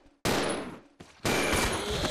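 Gunfire in Resident Evil 0 ending in a headshot: two loud, close bursts of shots separated by a brief lull, the second burst sustained and dense.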